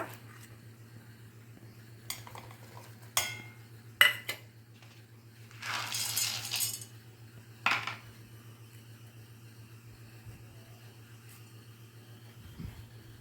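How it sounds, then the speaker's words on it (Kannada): Chutney ingredients (green chillies, coriander leaves, two garlic cloves and salt) go into a mixer jar, giving a few light clinks and knocks, a short rustle, and long quiet stretches between. "ಇದಷ್ಟು ಮಿಕ್ಸಿ ಜಾರ್ನಲ್ಲಿ ಹಾಕೋಬಿಡೋಣ ಈಗ."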